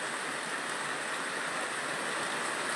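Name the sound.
heavy rain falling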